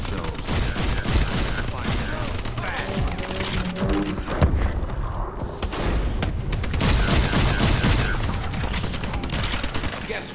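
Automatic sentry turrets in a Call of Duty video game fire steady, dense bursts of gunfire with booms and mechanical clatter, loud and continuous, mixed with game sounds.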